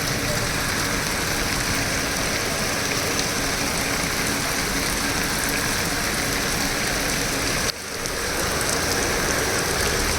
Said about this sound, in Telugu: ఫుల్గా పడుతుందండి వర్షం